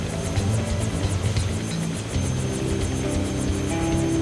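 Helicopter hovering and flying in the Transformers Rescue Bots: Hero Adventures video game, a steady loud rotor and engine drone with faint rhythmic blade chop, continuous throughout with a slight dip midway and no talk.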